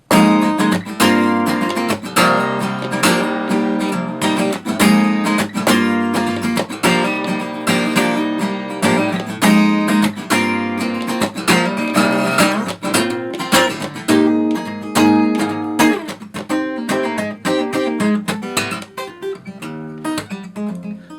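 Strummed acoustic guitar plays the chorus of a song in a steady, driving chord pattern, loud and continuous with no voices.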